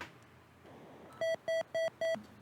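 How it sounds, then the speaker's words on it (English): Four evenly spaced electronic beeps from an Atari 2600 video game warn of an approaching enemy, sounding loud and steady over a quiet background hiss with no talk. "So that 4 beeps means there's an enemy"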